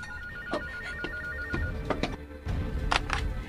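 A telephone rings in a domestic drama scene, with repeated bursts of ringing over a steady background hum and no talk.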